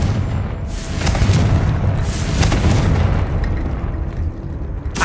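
Fiery Confringo blast spells burst repeatedly in Hogwarts Legacy gameplay, deep booming explosions layered with crackling fire over a dense rumbling backdrop, no talk.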